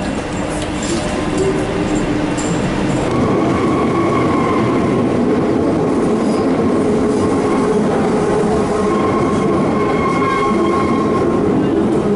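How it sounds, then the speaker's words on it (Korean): A Paris subway train rolls along with a loud, steady roar and rattle of wheels on rail, faint squeals and tones riding over the constant rumble. "지하철."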